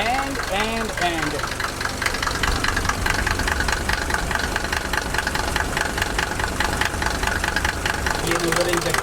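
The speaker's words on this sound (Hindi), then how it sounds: "ये इंजेक्टर की आवाज़ है" Mercedes W124 engine idling with a steady rhythmic injector ticking and knock, loud and close, under someone talking.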